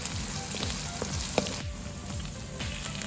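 Garlic frying in a pan for Filipino laing gives a steady, close sizzle with a few light stirring clicks and scrapes throughout, and no talk.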